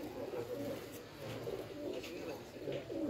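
A high-flyer pigeon with grey feathers through the middle of its wings coos in a steady run of low, throaty rolls, close by, with faint background noise and no talk.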